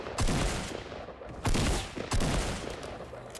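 Gunfire bursts in the video game Fortnite, three loud rapid volleys of shots with short pauses between them, close and sharp.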